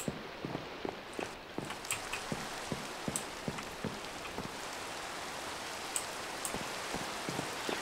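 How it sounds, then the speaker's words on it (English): Rain falling in Minecraft, a soft steady patter with scattered sharper drops and faint tapping knocks, fairly quiet and uninterrupted by speech. "God, it's raining."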